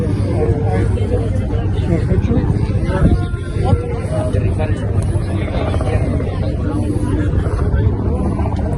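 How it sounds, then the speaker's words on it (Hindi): The low, thumping drone of a helicopter sits under people talking, steady and fairly loud, with background traffic-like rumble. "हेलीकॉप्टर"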